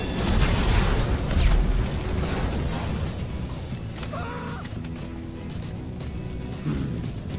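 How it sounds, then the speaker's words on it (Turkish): A cartoon plane hauling a big bus crashes to the ground, giving a loud rumbling boom at the start that trails into scattered clatter and softer impacts, with a brief voice near the end. "Hemen çaktın yere uçağı."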